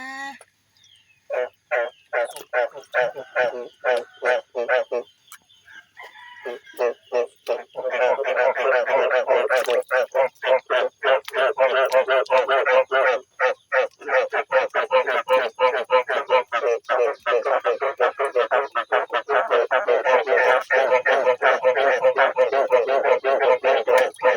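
Frogs croaking in a backyard garden, rapid pulsing croaks in quick trains that pause briefly then return in a dense, loud, near chorus lasting throughout.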